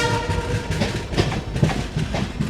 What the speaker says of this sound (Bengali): বন্ধুরা আপাতত আমার ট্রেন সেবক থেকে বেরিয়ে যাচ্ছে দেখো।